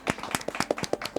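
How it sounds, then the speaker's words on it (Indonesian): A quick burst of hand clapping from a few podcast hosts welcoming a guest, about a dozen uneven claps close to the mic over a little more than a second. "Mas Johan, tepuk tangan Mas Johan."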